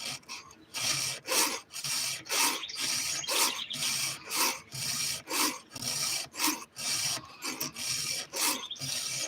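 Steady rasping strokes of a file on a chainsaw chain, each stroke a short gritty scrape, repeated in an even back-and-forth rhythm up close.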